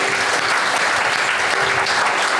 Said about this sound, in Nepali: परमेश्वरलाई हामी ताली बजाएर हामी धन्यवाद भन्नेछौँ